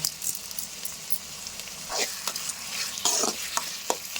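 Tomatoes and green chili with rock salt sauté in a pan, a steady soft sizzle broken by repeated scraping and stirring strokes of a spoon, close and with no talking.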